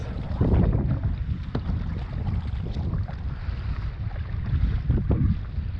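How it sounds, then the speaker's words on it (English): Strong wind buffeting the microphone while kayaking at sea off a winter coast: a loud, continuous rumbling roar with gusty swells throughout and no voices. "The wind is blowing me off course a little way now."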